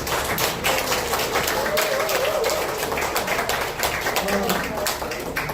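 Audience applause at a political party forum, a dense steady wash of clapping from a crowd, with voices talking and cheering faintly underneath.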